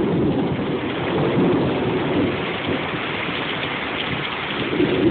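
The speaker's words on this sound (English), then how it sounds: "The rain got heavier." Intensifying downpour during a Hopkinsville thunderstorm, with rain drumming hard on surfaces in a continuous loud roar and thunder rumbling low and steady beneath it, with no voices.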